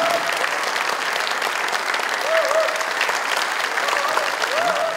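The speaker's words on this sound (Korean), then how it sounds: "모두 큰 박수 부탁드립니다." A crowd applauds at an honorary doctorate ceremony at Dongguk University, sustained, even clapping filling the hall, with a faint voice drifting over it at moments.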